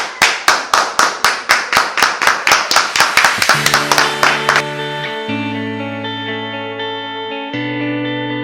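Rhythmic, evenly spaced claps ring out at a girls' government school event welcoming student authors, loud and processed with heavy effects, then give way to sustained electronic tones.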